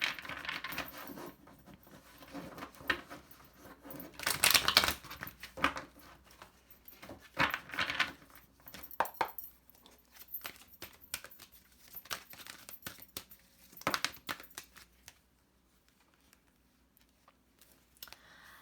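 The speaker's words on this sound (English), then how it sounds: "Let's give it one last shuffle." Tarot cards are shuffled by hand in irregular bursts of papery riffling, crinkling and soft slaps, close and quiet, with short pauses between handfuls and a hush near the end.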